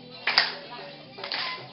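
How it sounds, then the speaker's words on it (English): An audience claps along to a worship song at a harvest event, two short bursts of group clapping under a singing voice. "Let's see you clapping along."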